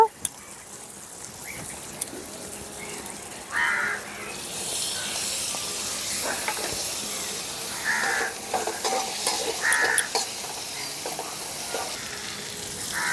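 Tomatoes tipped into a pan of spice paste for a vegetarian mixed-veg paneer curry, giving a steady sizzle with stirring scrapes and a few sharper splashes as they land.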